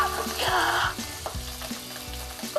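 Very hot oil in a cooking pot hisses and crackles steadily, with a louder sizzling surge near the start and soft stirring or clinking underneath, close up and without talk.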